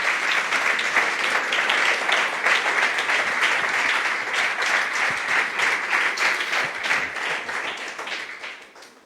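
A church congregation claps for Jesus during a service, dense sustained applause from many hands, loud and even for most of nine seconds before tapering off at the end.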